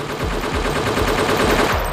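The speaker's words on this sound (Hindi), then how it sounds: "गोलियां चली" Rapid gunfire from a Lahore gang war, heard as a steady, dense run of loud machine-gun-like bursts with no pauses and no voices.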